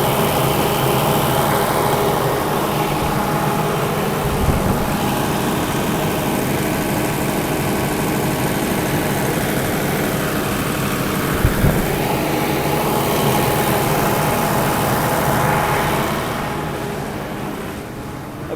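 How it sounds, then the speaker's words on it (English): An outdoor standby generator set at a bank building runs during a test, a steady loud engine drone with a couple of faint thumps, easing slightly toward the end. "engine is running in good condition"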